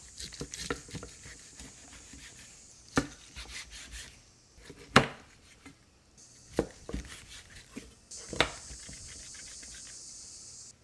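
A knife slices through smoked baby back ribs on a board, with a few sharp cutting thuds and soft scrapes spread across the stretch, quiet and close, with a faint high insect-like whine in the background.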